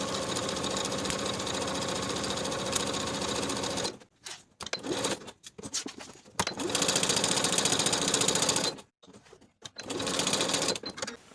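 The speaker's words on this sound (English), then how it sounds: "I'm going to baste the backing in place." A sewing machine basts pocket backing in place on pull-on pants, running in steady loud bursts that stop and start several times with short pauses between stitching runs.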